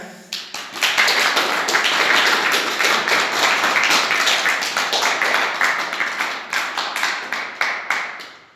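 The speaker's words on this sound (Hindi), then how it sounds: "तालियां बजाएं" Villagers at a Sahaj Yoga introduction gathering in Sonaicha, Rajasthan clap together, starting abruptly, holding a strong close patter, then thinning into separate sharp claps as it fades out.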